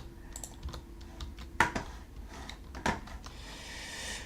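Keystrokes clicking on a computer keyboard while playing Minecraft, a few scattered taps with two sharper, louder presses standing out against a low steady background hum.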